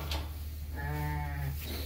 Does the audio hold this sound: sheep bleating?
yes